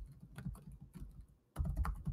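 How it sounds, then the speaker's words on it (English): Steady typing on a computer keyboard, close and moderately quiet, with a brief pause before a denser burst of keystrokes. "And we'll type in our link."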